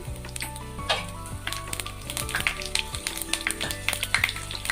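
Cumin, pepper and cashews sizzle steadily in hot ghee, crackling and popping close up, with a few light taps of a spoon against the pan while tempering pongal.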